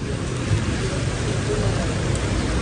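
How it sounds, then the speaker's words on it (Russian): Rain begins falling in Bali, a loud, dense hiss of drops hitting surfaces close by, steady across the whole stretch with no speech. "То наоборот солнце выглянуло, а теперь дождь пошел."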